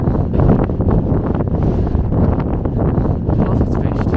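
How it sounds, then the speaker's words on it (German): Strong wind buffets near a mountain summit on the Continental Divide near Breckenridge, a loud, continuous roaring rumble with gusty swells, probably including wind hitting the microphone. "Da kommt auch der Wind."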